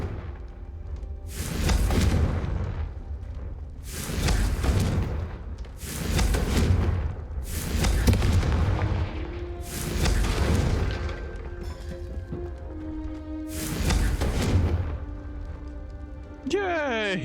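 Repeated Confringo fire-spell explosions in Hogwarts Legacy burst out as about six loud, broad booms spaced a couple of seconds apart, with a voice speaking over them.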